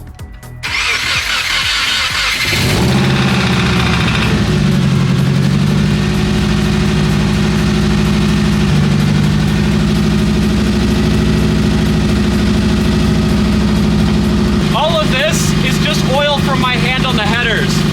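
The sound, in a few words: Subaru Impreza rebuilt engine idling, possible exhaust leak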